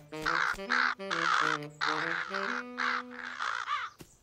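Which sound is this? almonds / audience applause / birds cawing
birds cawing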